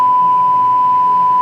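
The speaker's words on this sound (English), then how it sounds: "that loud beeping sound, it's redacted" A loud, continuous pure-tone censor beep holds steady and unbroken for the whole stretch, standing alone with no voices over it.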